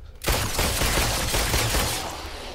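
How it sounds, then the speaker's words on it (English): Rapid gunfire from a fast-firing gun in The Brookhaven Experiment VR game, a dense, loud burst of shots starting abruptly and continuing steadily, with no talk. "You can just shoot a lot faster, and this one's got quite a good firing rate"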